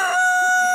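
Rooster crowing on a farm where roosters are being processed, a loud, close, sustained crow with steady tonal bands running through the whole short burst.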